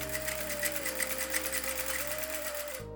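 An electric sewing machine stitching cloth, a steady rapid mechanical whir with regular needle clatter running continuously before cutting off abruptly near the end.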